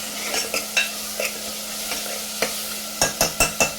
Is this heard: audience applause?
no